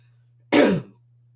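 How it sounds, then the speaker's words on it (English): A man clears his throat once, a short, loud, rough rasp close to the mic against a quiet background with a faint low hum. "I was just clearing my throat a little bit."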